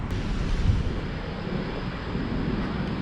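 Heavy wind buffets the microphone during an electric bike ride, a loud steady rumbling roar with gusty swells and no voices.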